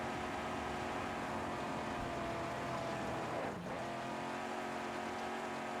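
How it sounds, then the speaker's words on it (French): A fast car in the video game Helldivers 2 drones with a steady engine roar, then a brief swooping pass near the middle before the engine settles back to a constant hum. "elle va méga vite la voiture."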